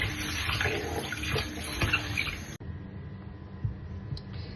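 Rice rinsed in water in a kitchen for a home-made fish biryani, a steady splashing and running-water wash that drops to a quieter trickle with light clicks partway through.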